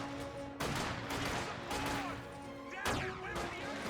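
Gunfire from an MG34 or MG42 machine gun in a Company of Heroes 2 battle, with dense bursts and scattered shots clattering over a steady game hum, loud and continuous, mixed with other battlefield noise.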